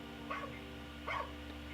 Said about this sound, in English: That is a barking noise.